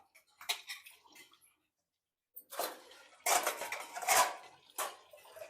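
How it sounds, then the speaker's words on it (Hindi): Steel utensils clatter and clink in a home kitchen as they are stacked on a high shelf, several sharp bursts of metallic knocks with short pauses between, close and moderately loud. "सारे बर्तन ऊपर ऊपर रख दो"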